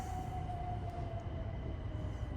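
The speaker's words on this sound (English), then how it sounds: "Ignore the real train." A steady low rumble of a passing train fills the clip, with a faint sustained whistle-like tone running throughout.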